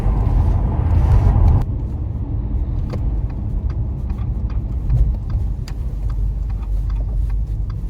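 A used Audi RS4 from a Copart auction, freshly through its MOT, rumbles steadily from inside the cabin on its first drive, with a louder low surge at the start and small rattles and clicks over the engine.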